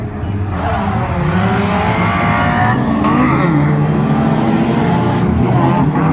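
Caravan banger racing cars at Crimond Raceway roar continuously at close range, engines revving hard with tyres skidding and squealing under a steady, loud mechanical drone.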